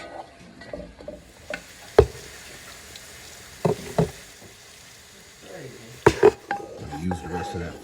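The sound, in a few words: ground meat frying and being stirred with garlic in a pan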